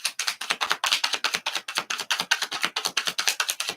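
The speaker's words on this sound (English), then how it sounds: "I don't usually have to shuffle that much." Tarot cards being shuffled by hand, a fast, even run of crisp riffling flutters that repeats steadily for several seconds, close and fairly loud, with no voices.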